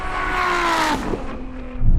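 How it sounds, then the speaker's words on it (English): A Ferrari V12 and a NISMO V6 accelerate hard side by side in a half-mile drag race, a loud sustained engine roar with rising and shifting tones, then a drop and a deeper surge at the end. "Daniel, actually, the Ferrari did better than I thought."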